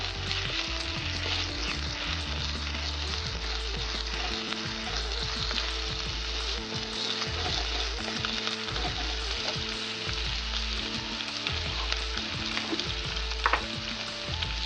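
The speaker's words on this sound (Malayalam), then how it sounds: "എന്നിവ ചേർത്ത് നന്നായി ഇളക്കുക" Ingredients for Kerala-style karimeen (pearl spot fish) curry with kudampuli sizzle steadily in a hot pan while being stirred, a dense continuous frying hiss with repeated scraping strokes and faint clatter throughout, with no voices.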